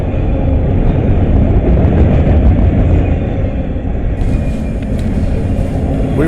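A freight train travelling from Folkestone to Jacksonville rumbles past close by, a loud, steady roar of rolling cars with faint clatter, and no voices.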